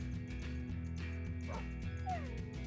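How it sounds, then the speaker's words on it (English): Dog whimpering and yipping in Minecraft, several short high whines and a rising squeal over a steady musical background. "You whimpered again!"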